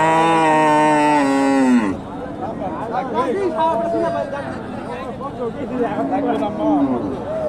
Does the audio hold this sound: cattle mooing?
yes